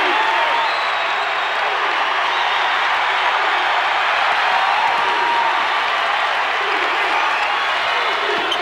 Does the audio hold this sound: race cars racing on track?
no